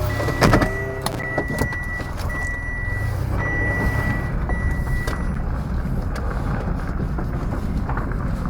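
A car idling and creeping forward up onto drive-on ramps outdoors, low engine rumble with repeated electronic warning beeps at the start and wind buffeting the microphone.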